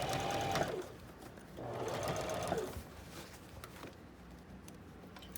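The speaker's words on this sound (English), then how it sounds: "I'm just putting a nice seam at the top of each of these bag pieces" A sewing machine stitches a seam across the top of tote bag pieces, running in a couple of short close bursts of rapid mechanical whirring with a quieter pause between.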